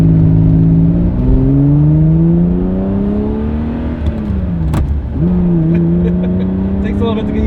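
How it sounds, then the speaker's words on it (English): Ferrari Testarossa exhaust while driving, a loud close flat-twelve drone rising and falling through gear changes, with a brief dip at a shift before pulling again. "Those pipes are good sound on this car."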